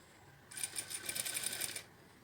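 A sewing machine locks the end of the seam on an invisible zipper with one short, soft burst of rapid stitching against a quiet background.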